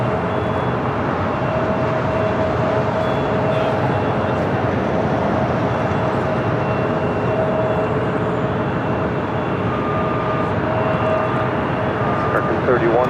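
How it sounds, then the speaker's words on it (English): An Airbus A220-100 taxis at Los Angeles International Airport, a loud, steady engine drone with a faint whine that continues throughout while someone talks over it. "It's followed by Delta Airlines flight 1143, heading to Houston, Texas, and an Airbus A220-100."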